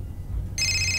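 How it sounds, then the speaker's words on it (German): A telephone starts ringing in the video game Fahrenheit: Indigo Prophecy, a bright electronic ring cutting in abruptly halfway through after a low ambient hum. "Oh, Telefon."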